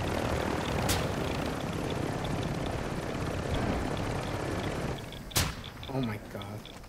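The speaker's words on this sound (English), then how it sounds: "I'm gonna lower the helicopter." Dense, steady rotor and engine roar of a helicopter in a Call of Duty DMZ video game fills most of the stretch, then drops off as a sharp crack and a brief voice come through near the end.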